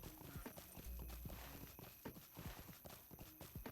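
A horse mount in Lord of the Rings Online walks along with steady, rhythmic clip-clopping hooves, close and continuous, over a soft game background with a faint neigh.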